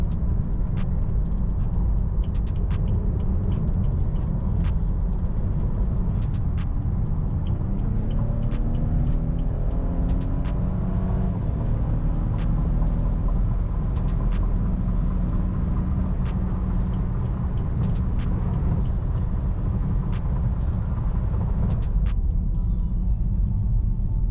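A car out on a casual cruise, heard as a steady, loud low rumble of engine and road noise from inside the vehicle, continuous for the whole stretch with no talking.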